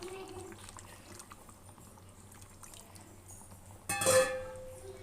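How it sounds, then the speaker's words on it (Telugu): Tamarind juice is poured into a simmering Telugu-style fish curry, a quiet bubbling that turns into a short, bright splash and sizzle near the end. "చింతపండు పులుసు తీసి పెట్టాను కదా వేసేస్తున్నాను"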